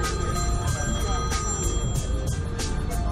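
A phone rings in repeated short bursts over a loud, constant engine rumble aboard a sea bus.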